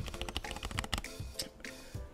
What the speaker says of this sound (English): there's a little rattle that I get on the backspace and the space bar